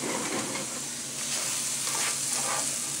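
Food sizzling in a hot iron skillet, a steady close crackling hiss that fills the whole moment with no talking.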